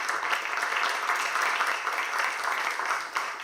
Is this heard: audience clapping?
yes